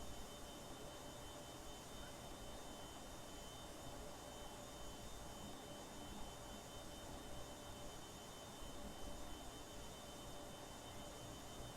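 Boeing 757-200 jet engines spool up toward half throttle, heard from inside as a steady, dense roar with a thin whine riding on top, constant and unbroken throughout.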